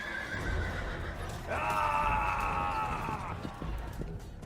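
A horse gives a loud, drawn-out whinny lasting about two seconds in the middle, while low thudding hoofbeats and rumble continue underneath throughout.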